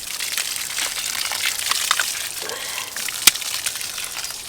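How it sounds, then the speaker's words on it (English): Water gushes from an outdoor tap fed by a garden pond, a steady broad hiss and spatter with a sharp click partway through. "Right, let's put this tap on."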